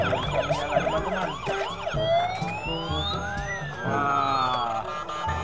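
Toy ambulance with flashing lights sounds its siren, a loud electronic wail rising and falling in repeated sweeps with a second overlapping tone, steady and close with no voices over it.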